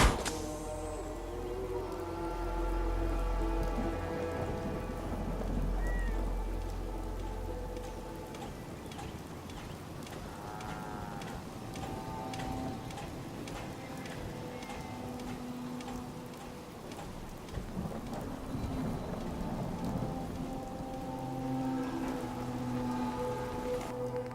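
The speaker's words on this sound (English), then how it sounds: "Hope this rain lets up soon." Steady patter of rain on a surface, soft and continuous with scattered drips, mixed with a low hum and faint tonal background sounds.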